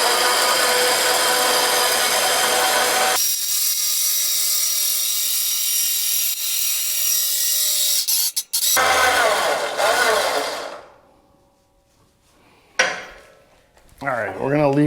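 A powered snowmobile lift runs in a garage to lower a sled, a loud, steady motor whine and rumble that shifts tone partway through, cuts off, then gives way to brief clunks and rattles.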